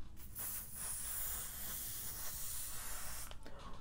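Wig adhesive spray hissing steadily from an aerosol can held close during a wig install, a continuous bright spray lasting several seconds.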